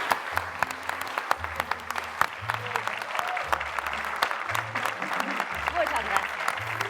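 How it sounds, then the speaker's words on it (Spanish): A studio audience claps loudly and continuously for a guest, Mario Iván Martínez, arriving on stage, with music playing under the applause. "Y Mario Iván Martínez. ¡Aplauso fuerte!"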